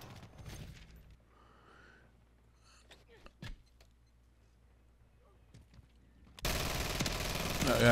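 Rapid automatic fire from an FTAC Siege in Call of Duty erupts as a loud, dense burst in the last second and a half, after sparse clicks, thumps and faint movement noise.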